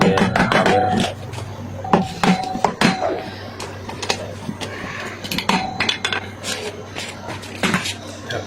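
A rubber hammer taps on Kawasaki Fury 125 motorcycle parts, a string of irregular, close, dull knocks and clacks over a steady low hum.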